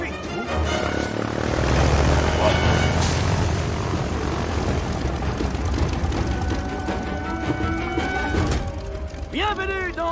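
An airplane drones overhead in an action film scene, a loud rumbling engine roar with mechanical rattles, mixed with music and effects and fading toward the end.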